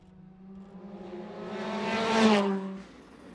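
Rally car on a stage of the 2019 Donegal International Rally, its engine tone rising and swelling through a spin before cutting away sharply, heard at middle distance without commentary.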